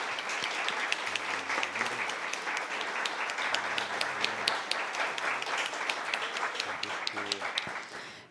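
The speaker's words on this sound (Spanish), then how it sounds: "Un aplauso en agradecimiento a los profesores." An audience gives sustained applause for the professors at the close of a lecture, with many hands clapping steadily at moderate loudness and a few voices murmuring underneath.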